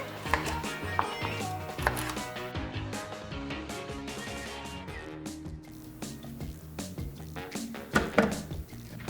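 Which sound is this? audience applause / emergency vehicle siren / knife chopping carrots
knife chopping carrots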